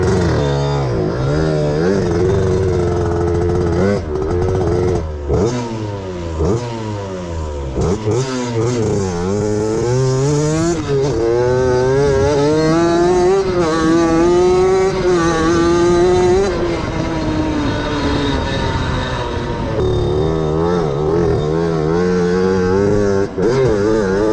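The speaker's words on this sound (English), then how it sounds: "you can see on the GoPro how bad it's bogging" A mini bike fitted with a CR80 two-stroke engine bogs and struggles to rev, its buzzing exhaust droning and wavering in pitch for the whole stretch, loud and close without pause.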